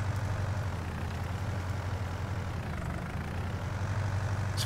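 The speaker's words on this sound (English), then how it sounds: "Very muddy. The tractor keeps getting stuck." Small Fendt tractor engine labouring through deep mud in Farming Simulator 19, a steady low diesel drone with a rumbling throb, continuous and fairly loud with no talk.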